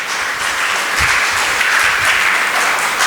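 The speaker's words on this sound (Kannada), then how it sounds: "ಚಪ್ಪಾಳೆ ತಟ್ರಿ." A church congregation breaks into steady applause at a worship service, many hands clapping together in a dense, continuous wash that stays loud and even throughout.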